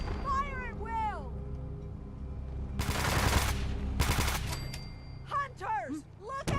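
Gunfire erupts against gulpers in the Fallout 4 Far Harbor add-on, dense bursts of shots over roughly two seconds amid a loud foggy battle, with shouting voices before and after.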